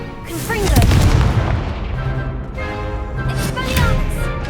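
Confringo fire-blast spells in Hogwarts Legacy produce loud booming bursts, one early and another later, with whooshing tails and crackling over a busy combat backdrop.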